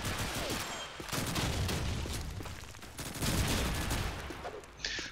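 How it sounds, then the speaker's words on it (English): Shotgun exchanges in a Call of Duty 2 multiplayer match on the Burgundy map, heard as dense, continuous rumbling gunfire with overlapping blasts, loud throughout and without talk. "So a little bit of a shotgun exchange here and there."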